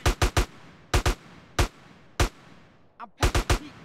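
Gunfire in the video game GTA San Andreas: sharp, loud single shots in quick pairs and triplets with short pauses between, spread across the moment.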